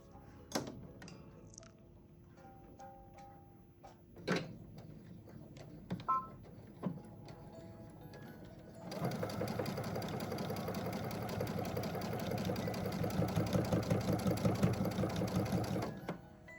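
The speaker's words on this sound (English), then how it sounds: "I'm just going to do a normal straight stitch" A sewing machine runs a straight stitch along the opening edge of a fabric tissue box cover, starting after several light clicks and handling noises, then humming steadily and close for about seven seconds before stopping.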